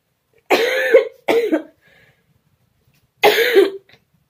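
Two quick, loud coughs close together, then a short pause and a third cough, all near and clear against silence.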